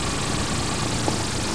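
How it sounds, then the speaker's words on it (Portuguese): A Honda Twister motorcycle engine runs steadily on a dirt road, a loud, close, continuous mid-pitched drone with slight vibration and no break. "Lá vem a moto hoje."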